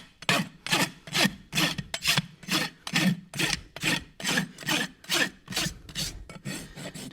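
A farrier's rasp files the burr off clinched nail ends on a horse's hoof, giving a steady run of about a dozen loud, rhythmic scraping strokes close up, with no talking.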